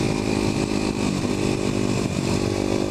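A Kawasaki KLX250SF supermoto motorcycle engine drones steadily and loud up close on an offroad ATV poker run ride, a buzzing continuous tone with small dips in throttle.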